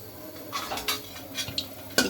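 Dried red chilies frying in mustard oil in a pan, with soft bursts of sizzle broken up by scattered clinks and scrapes of a utensil against the pan, close and fairly quiet.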